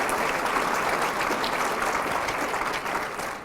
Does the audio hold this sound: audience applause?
yes